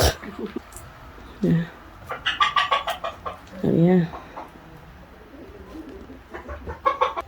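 Chickens cluck and squawk close by in short bursts in Romania, with a person speaking briefly between the calls.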